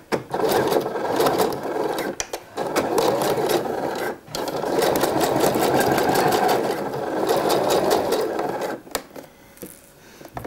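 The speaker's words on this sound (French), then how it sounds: "à la machine à coudre et on va piquer du coup dans le sillon de la couture qui est déjà présente" A sewing machine stitches along an existing seam on a bikini underwire casing, running in long steady bursts with rapid needle chatter, briefly pausing twice, close and loud.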